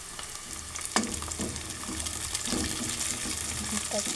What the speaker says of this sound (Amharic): እንደምታዩት ሽንኩርት እየጠበስኩ ነው።